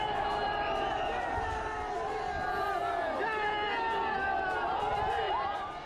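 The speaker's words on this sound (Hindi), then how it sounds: "पीएम मोदी का काफिला जब निकला तो हर तरफ मोदी मोदी के नारे ही सुनाई दिए।" A dense roadside crowd in Haldwani, Uttarakhand, chants Modi slogans as the Prime Minister's convoy passes, a loud, continuous wall of many overlapping voices that swells and holds for several seconds.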